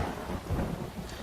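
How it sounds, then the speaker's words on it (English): A thunderstorm with rumbling thunder rolling through steady rain, a continuous low, dense roar that swells and fades without pause. "That's a thunderstorm."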